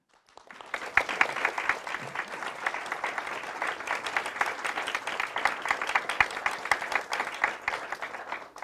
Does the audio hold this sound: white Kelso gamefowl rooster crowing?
no